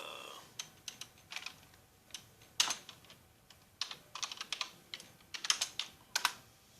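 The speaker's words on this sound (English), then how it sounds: "we're going to type in hair" Computer keyboard typing in short irregular bursts of close, crisp key clicks with a few louder strokes, and no talking over it.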